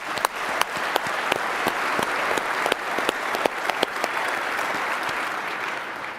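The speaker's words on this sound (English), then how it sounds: "round of applause for Gene" Audience applause at a Zero Trust World conference keynote, a sustained roomful of clapping with distinct individual claps popping out, moderately loud and continuous without speech.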